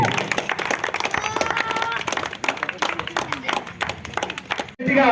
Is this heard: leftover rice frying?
no